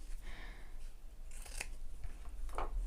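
Scissors snip through a square of foam, with several crisp, close cuts standing out over a faint background hum.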